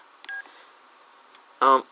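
Keypad tones from a Motorola V170 TracFone, with a short faint beep followed by one louder, brief electronic tone, heard close and alone.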